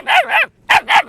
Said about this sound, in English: we all know dog barks. Let's listen the sound of dog.